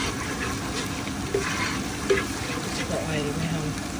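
Ground onion and cumin fry in white oil for an egg and potato curry, a continuous close sizzle broken by a couple of sharp stirring knocks.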